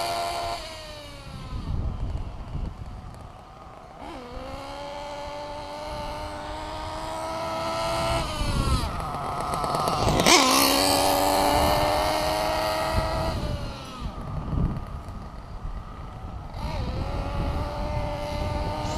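A Nova Rex .28 nitro engine in a Losi 8ight T RC truck runs at high, buzzing revs, rising and falling in pitch as it makes passes, loud and continuous throughout.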